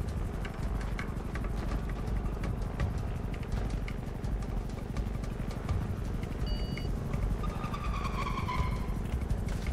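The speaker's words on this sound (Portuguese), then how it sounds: "Ó, passou o carro." A car passes by in the video game GTA 5, heard as a continuous loud engine rumble with road noise and a few brief electronic beeps toward the end.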